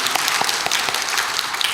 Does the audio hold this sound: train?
no